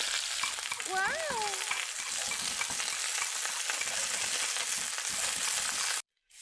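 Garlic sizzles steadily in hot oil at close range, a dense crackling frying hiss that fills the clip before cutting out abruptly near the end; a brief tonal chirp rises over it early on.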